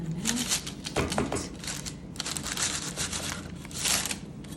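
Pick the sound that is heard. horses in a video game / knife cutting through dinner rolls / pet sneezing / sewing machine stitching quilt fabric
knife cutting through dinner rolls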